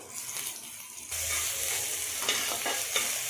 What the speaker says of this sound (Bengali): ভেজে নিচ্ছি পুরটিকে রেডি করে নেব আমরা কিন্তু মটরশুঁটির পুরটিকে খুব বেশি পরিমাণে ভাজবো না